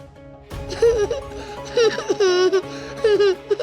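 A young child cries in a Hindi television drama, giving loud wavering wails in several bursts with short pauses between them over a quieter background.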